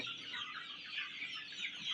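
Desi hens on a poultry farm clucking and chattering softly in a continuous faint murmur, somewhat distant and quiet, with no talking.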